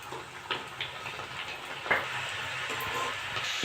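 Dal (lentils) frying in hot white oil in a heated kadai, a steady, close sizzling hiss with small crackles throughout.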